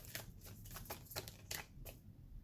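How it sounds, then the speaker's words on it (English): A deck of tarot cards is shuffled in soft, rapid riffling bursts, quiet and close, with no talking. "I'm just going to finish shuffling the deck."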